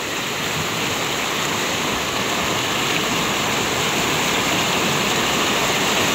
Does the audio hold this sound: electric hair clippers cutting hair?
no